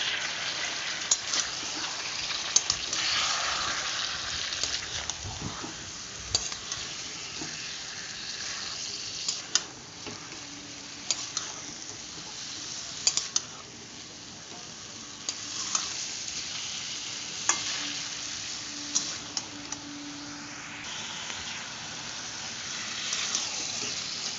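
Chicken breast pieces fry in a pan with a steady, dense sizzle lasting throughout. Faint scrapes and taps from stirring come through now and then.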